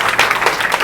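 Crowd applause for newly selected Agniveer army recruits at a coaching-class felicitation event, a short burst of dense, steady clapping at moderate loudness with no talking.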